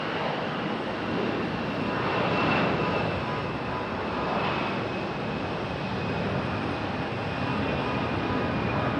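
A jet airliner takes off from runway 5 left at Raleigh-Durham International Airport, a steady, loud, broadband engine roar that swells slightly and holds for several seconds, with no talking.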